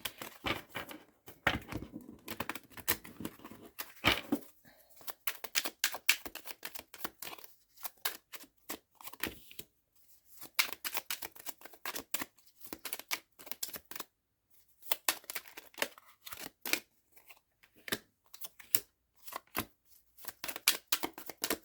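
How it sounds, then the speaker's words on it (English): Tarot cards are shuffled by hand in repeated bursts of crisp riffling and slapping, close and distinct, separated by short quiet pauses over the whole stretch. "These cards are a little bit impossible to shuffle that way."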